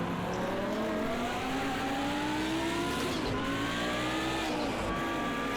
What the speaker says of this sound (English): early shift into fourth gear just to keep the car stable coming through turn 2 there